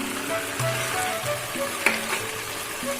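Prawns with their heads and chopped bottle gourd sizzle in a pan while being mixed, a soft continuous frying hiss with light scraping stirs and one sharp clink, close and without speech.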